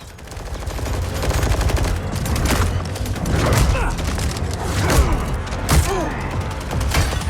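Rapid gunshots and machine-gun bursts crack through a Mortal Kombat 11 fight, mixed with thumps and impacts that repeat across the stretch, fairly loud with some voice underneath.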